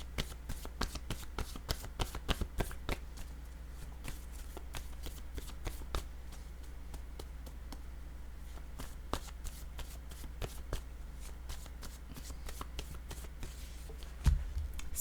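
Tarot cards are shuffled by hand and drawn from the deck in a quiet room, giving a run of crisp, rapid riffles and flicks with short pauses between bursts.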